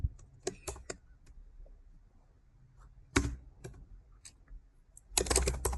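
A computer keyboard being typed on nearby in quick bursts of clicking keystrokes, separated by short quiet pauses, with a denser flurry toward the end.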